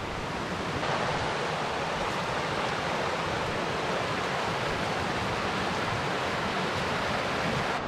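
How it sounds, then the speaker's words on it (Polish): A small mountain stream pours into a brook at the bottom of an autumn valley near Schimbrig in the Swiss Alps, a steady, full rushing of water that stays close and even throughout. "już tutaj wpada jakiś strumyk do potoku"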